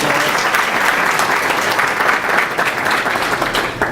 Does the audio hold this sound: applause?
yes